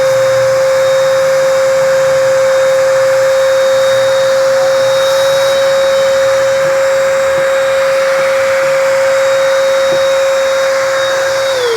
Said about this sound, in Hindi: आपको दिखाते हैं कि वैक्यूम क्लीनर किस तरह से इस बुरादा को भी अंदर खींच लेगा